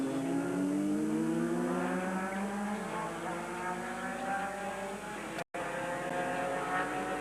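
Race car at the 1990 IMSA race at Heartland Park passing by, a high, steady engine whine that shifts in pitch as it goes past, with a commentator talking over it.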